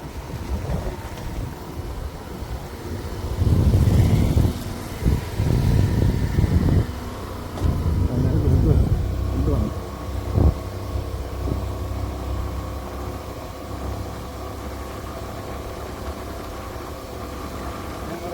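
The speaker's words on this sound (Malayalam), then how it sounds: "അന്തരീക്ഷവും നല്ല കാറ്റും" Wind buffets the microphone at Chengara Hanuman Temple in a steady rushing roar, gusting louder for a few seconds before settling into a constant blow.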